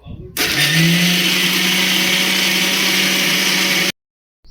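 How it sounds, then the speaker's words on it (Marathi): A mixer grinder grinding soaked rice whirs loudly and steadily for several seconds after a brief start, then cuts off abruptly into silence. "मिक्सरमध्ये बारीक करून घ्या तांदूळ"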